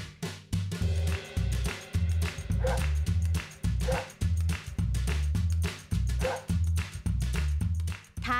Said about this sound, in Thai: เป็นคาเฟ่สำหรับน้องหมาแล้วก็เป็นพันธุ์ไซบีเรียนฮัสกี้ด้วย